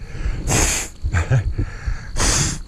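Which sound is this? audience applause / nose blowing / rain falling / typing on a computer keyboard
nose blowing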